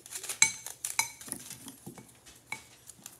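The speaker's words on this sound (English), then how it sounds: "stir that up a little bit more" A utensil stirring bath bomb mixture in a bowl, with repeated clinks and scrapes against the bowl in an uneven rhythm, close and fairly clear, with no talking.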